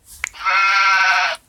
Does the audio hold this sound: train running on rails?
no